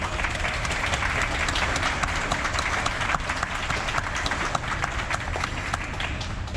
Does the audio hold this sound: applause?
yes